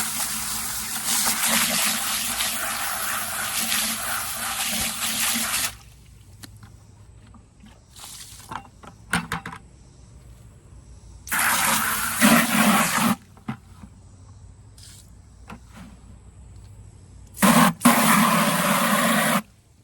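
Water gushes from a hose to wash out an intake manifold over a bucket, loud splashing bursts that start and stop in three spells with quieter handling noises between.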